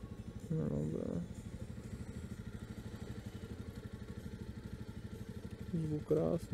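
A Jawa 650 motorcycle engine running during a ride, a steady low pulsing drone heard from the saddle, with short louder revving swells near the start and end.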